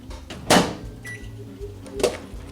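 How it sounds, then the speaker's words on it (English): A kitchen microwave oven in use: a low steady hum under two sharp clunks, like the door or buttons, close by and with no talk. "Then we're gonna pop it in the microwave for 5 minutes."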